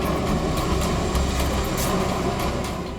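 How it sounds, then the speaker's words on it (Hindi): A local commuter train rushes by with a dense, continuous rumbling clatter, loud and close, lasting throughout. "सर शायद लोकल ट्रेन की थी।"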